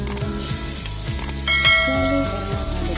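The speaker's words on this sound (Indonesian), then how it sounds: "mau goreng bumbunya terlebih dahulu. Masukin jahe, bawang merah," Ginger, shallots and garlic spice paste sizzles steadily in hot oil in a home kitchen, with a continuous crackle and brief stirring clinks near the pan and no talk.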